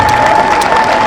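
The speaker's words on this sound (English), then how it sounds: "And a big round of applause for our crew please." Loud crowd applause and cheering for a rescue crew at an outdoor emergency services road collision display, close and continuous, with a faint steady tone running underneath.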